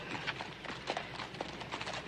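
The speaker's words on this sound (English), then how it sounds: "get your horse to manage a livelier gait?" A horse's hooves clip-clop at a steady walking pace on a road, faint and distant under a hissy, noisy background with no one speaking.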